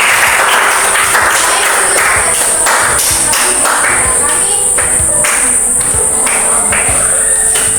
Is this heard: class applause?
yes